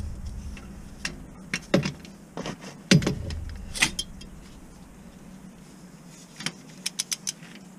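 Metallic clicks and scrapes from a car fuel injector being turned and tightened while its head spins loosely, several sharp close ticks and rattles in a quiet workshop with no talk.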